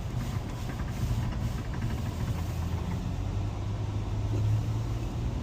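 A 17-year-old Toyota Highlander with front end noise runs steadily, its low engine rumble and road hum holding at an even level throughout with a faint hiss above, no voices present.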